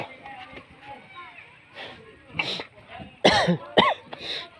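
Someone nearby coughs a few times in sharp bursts near the end, after some quieter background sounds and murmuring, while a large fiberglass boat is being lowered.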